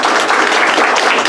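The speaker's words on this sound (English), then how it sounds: "A huge round of applause for this." Audience applause at a dharma talk on Indic identity, a dense, steady wash of many hands clapping filling the whole short stretch at close range.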